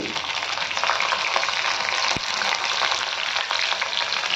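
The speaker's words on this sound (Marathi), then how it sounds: "तेल गरम झालं की त्याच्यात जिरे मोहरी टाकते." Cumin, mustard seeds and chili fry in hot oil, producing a loud, dense, unbroken crackling sizzle close by, with one brief sharp pop partway through and no speech.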